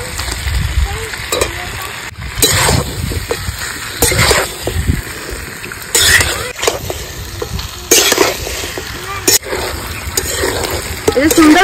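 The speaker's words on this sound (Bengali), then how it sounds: "দিয়ে দেবো ভেজে রাখা আলুর টুকরোগুলো।" Fried potato pieces go into a sizzling chicken curry in a pan and get stirred, loud steady frying hiss broken by repeated bursts of scraping and clanking from the stirring spoon, close and busy.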